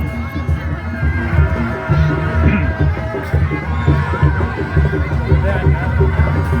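A Kuda Renggong dancing horse in an Indonesian village parade whinnies and neighs over clip-clopping hooves, amid a loud crowd and throbbing parade music with voices throughout.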